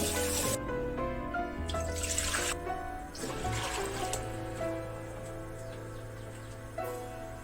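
Running water splashes and trickles steadily from a tap, with clattering and shifting splashes as pork bones and pig's tendon are rinsed beneath the stream.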